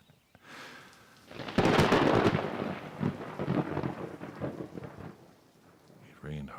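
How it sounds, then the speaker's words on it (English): Heavy night rain with rolling thunder as a sound effect in a spoken story: a loud thunder crack opens a dense, sustained downpour, with further rumbles and spattering through the wash, easing near the end. "It rained hard that night."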